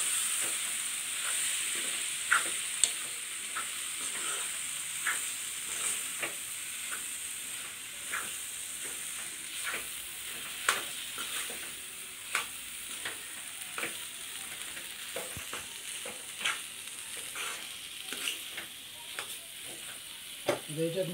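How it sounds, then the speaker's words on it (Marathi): Boiled, finely chopped potatoes sizzle steadily in a pan for a Maharashtrian potato sabzi, with a spoon scraping and stirring in irregular strokes every second or so, close and moderately quiet, with no talking. "आता याला चांगलं परतून मिसळून घेऊ."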